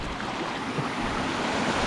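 A waterfall on a Snowdonia mountain trail roars as a steady, broadband rush of falling water, loud and continuous with no voices.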